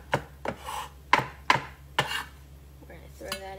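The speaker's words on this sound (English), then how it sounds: "So I'm just going to give this a rough chop" Fresh herbs from a home garden get a rough chop with a knife on a cutting board, five or six crisp, close thuds in an uneven rhythm, followed by a few softer scrapes.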